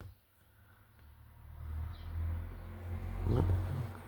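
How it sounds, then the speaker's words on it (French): Cars passing on a road, low engine rumble swelling and fading as vehicles go by, a louder one near the end, moderately distant with no talking. "Hop, encore des voitures."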